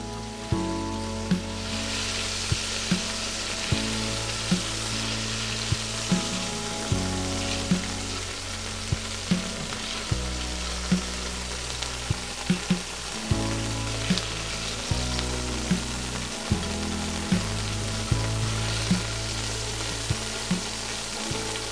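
Beef rouladen browning in a very hot pot give off a steady, close sizzle and crackle that runs unbroken, with regular low thumps and clinks of cookware over the top.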